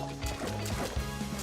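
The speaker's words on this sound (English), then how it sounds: "there's also new splash water sound effects when you're stepping on water" Footsteps splash through puddles in the Prior Extinction dinosaur game, with soft wet sloshing thumps repeating in a quick, close rhythm over a low ambient background.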